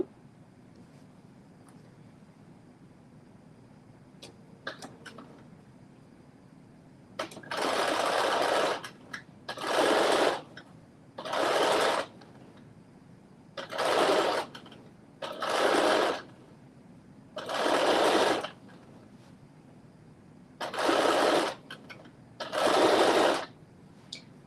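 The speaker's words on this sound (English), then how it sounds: "I have my edge foot in, which makes it so much easier to understitch" A sewing machine fitted with an edge foot understitches fabric in eight short, loud bursts of rapid whirring stitching, each lasting about a second, separated by brief pauses with faint handling noises.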